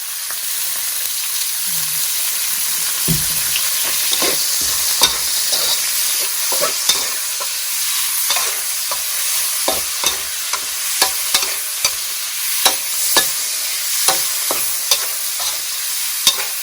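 Insects are stir-fried in oil, with a steady loud sizzle and repeated scraping knocks of a utensil stirring in the pan.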